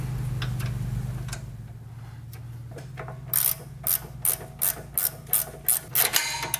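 A 6mm ratcheting wrench works a fastener on the rear suspension of an S550 Mustang, giving a run of crisp, evenly spaced ratchet clicks close by after a low hum, with no talk.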